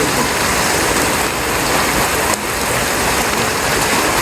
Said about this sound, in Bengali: বৃষ্টি একটু কম কমছিল এখন দেখা যায় আবার শুরু হয়েছে